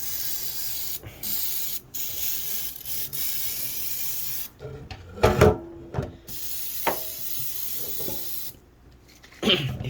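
Easy-Off oven cleaner hisses from an aerosol can in short bursts, each spray followed by quieter pauses and faint handling noises nearby.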